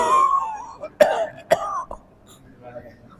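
A preacher at a dawn lecture in a mosque coughs in a few sharp, close bursts, each followed by a short throat-clearing rasp, then trails off into quiet.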